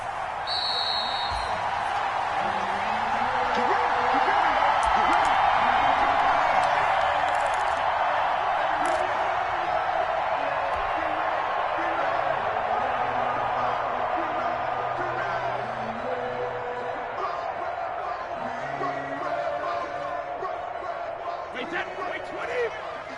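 A stadium crowd at a Miami Dolphins vs New York Jets football game roars and cheers steadily, loud and sustained, while a commentator talks over it.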